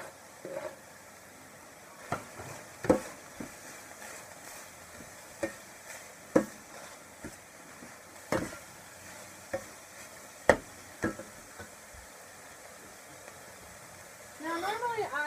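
Cooked crumbly ground beef with a quarter of a medium onion fries in a pan for a stuffed bell pepper filling, with scattered spoon scrapes and taps over a faint sizzle and a voice coming in at the very end.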